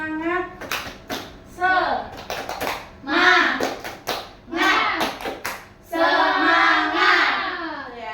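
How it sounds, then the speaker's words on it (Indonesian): Children in a classroom chant a rhythmic spirit clap (tepuk semangat), their voices rising in sung phrases with sharp hand claps in between, loud and close. "Kita tepuk semangat dulu ya."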